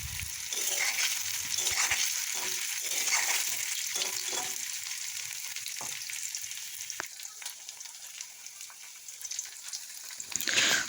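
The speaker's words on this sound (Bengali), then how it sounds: "এবারে কড়াইয়ের মধ্যে সাদা তেল দিয়ে পনিরগুলোকে ভেজে নিচ্ছি।" Paneer cubes sizzle and fry in white oil in a wok, a steady bright crackle that runs unbroken throughout, with a louder burst of spattering near the end.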